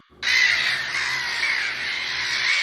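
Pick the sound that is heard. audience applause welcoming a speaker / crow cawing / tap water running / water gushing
crow cawing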